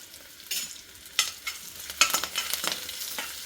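Asafoetida sautéing in hot oil while making cucumber rice, giving a steady close sizzle broken by several sharp scraping stirs, with no talk.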